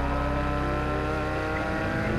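A loud, sustained engine roar with steady harmonic tone, a sports car motor running at high revs close up.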